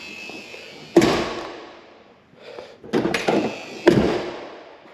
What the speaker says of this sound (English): Door doesn't shut the best.